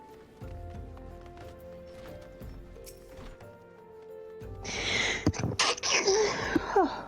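A single loud, close sneeze bursts out after a stretch of quiet rustling and soft background noise.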